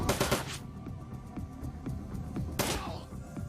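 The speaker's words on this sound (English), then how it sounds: "Maybe we'll just use guns for this particular second." Gunfire from a turn-based firefight in Shadowrun Dragonfall, with a loud burst at the start, a second one near the end and scattered thuds and shots between, no talking.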